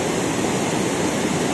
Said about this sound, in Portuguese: olha a quantidade de água que tá descendo aqui ainda no Rio Salgado